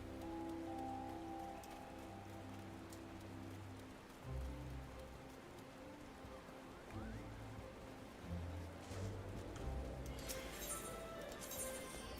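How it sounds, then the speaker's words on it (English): Rain patters steadily in Gridania in Final Fantasy XIV, a soft continuous hiss of drops at low volume. Low game music tones run underneath, and brighter chiming sounds come in near the end. "It's rainy in Gridania."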